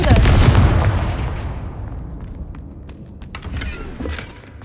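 A Confringo fire-blast spell explodes in the Hogwarts Legacy video game, a loud near boom with a long decaying rumble, followed by scattered sharp crackling bursts as the blast fades.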